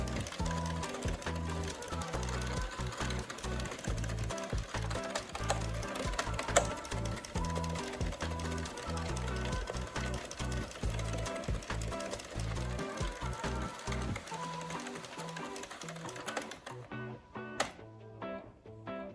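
An Addi knitting machine fitted with a tensioner is cranked steadily while knitting a beanie, giving a continuous rhythmic mechanical clatter of needles and gears that stops abruptly near the end.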